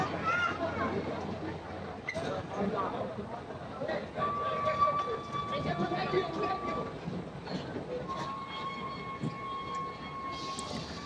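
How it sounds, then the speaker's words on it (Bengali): An amusement park toy train ride runs along its track, a moderate rattling rumble with brief tonal whistles or horn notes, heard under lively talk and background crowd noise. "তো এখন ট্রেনটা ছেড়ে দিচ্ছে, আমরা ট্রেনের উপরে মজা অনুভব করতেছি।"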